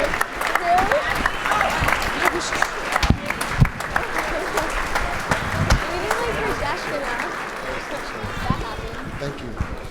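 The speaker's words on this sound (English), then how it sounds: "Give them one more round of applause." A school assembly audience gives a round of applause: a dense wash of clapping from a large crowd in a big room, with some cheers, shuffling and voices mixed in throughout.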